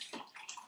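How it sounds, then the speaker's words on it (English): Herbal cough decoction being poured into a cup and then topped up with water, a short close liquid pour with a brief bubbling splash, heard alone. "I'll just pour half a cup into my daughter's cup, and I'm going to top that up with water"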